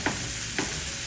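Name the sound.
egg frying in pan beside veggies and Spam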